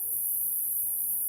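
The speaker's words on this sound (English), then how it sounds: "Cicadas. They are really, really loud." Cicadas buzz loudly outdoors in a continuous, high-pitched drone that stays steady and unbroken from start to finish.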